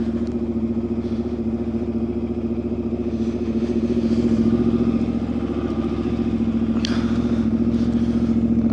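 A Yamaha R1 sport motorcycle engine idling steadily up close on a winter day, a loud even hum with a slight rise partway through and a brief clatter near the end.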